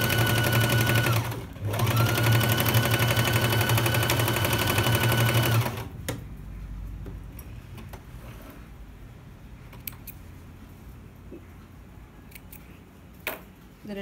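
A sewing machine stitching a patiala pant runs with a loud, steady whirring drone for about six seconds, broken by one brief pause, then stops and leaves a quiet room with faint handling clicks.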